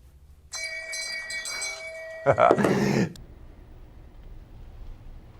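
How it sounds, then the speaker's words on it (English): A bright bell rings with a sustained, shimmering tone, followed by a brief burst of clattering noise that cuts off abruptly, then quiet. "so I can use my nerd bell."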